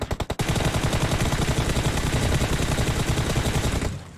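Automatic gunfire in the mobile battle royale game PUBG Mobile, a few sharp single shots followed by a long loud sustained burst of rapid fire that cuts off at the end.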